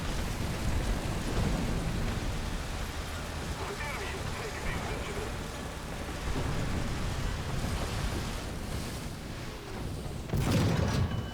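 Artillery strikes in the War Thunder tank game, with a British Mark IV (A13) Mk.1 light tank in play: continuous heavy rumbling blasts and booms, with a louder burst near the end, as a voice talks over them.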